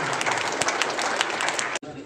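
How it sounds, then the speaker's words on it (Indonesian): Audience applause at an Indonesian seminar on slow-release palm oil fertilizer, a dense steady wash of clapping that cuts off abruptly near the end, with a brief quieter tail. "Kita beri tepuk tangan yang meriah"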